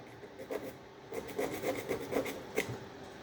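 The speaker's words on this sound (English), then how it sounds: "We'll mark it here with a screwdriver." A screwdriver scratches across a brass shell to mark it, making a short series of close, gritty rasping strokes in quick rhythm.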